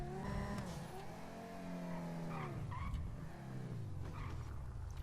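A car in the video game GTA 5 revs and skids, with tires squealing through pitch-bending sweeps over a steady engine drone, loud and close with no voices.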